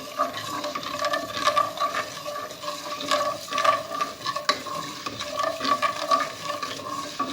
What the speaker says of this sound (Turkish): Kızarana kadar karıştırmak. Kavurmak lazım.